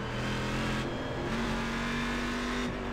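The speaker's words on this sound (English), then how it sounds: "You can hear it go down to the next gear." A GT1 race car in the iRacing sim at Watkins Glen drones steadily at high revs, its engine note dropping in pitch partway through as it shifts down a gear, with continuous road and tire noise underneath and no talking.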